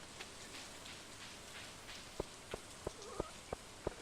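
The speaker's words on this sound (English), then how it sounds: "it's a rainy day" Steady patter of rain falls in the farming game Stardew Valley, a soft continuous wash with a few sharper drop-like ticks spaced through the second half; no talking.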